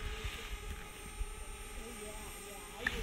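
A drone hovering over snow near a garden, a faint steady buzzing whine that runs throughout, heard from a distance with a few low thumps and no clear talk.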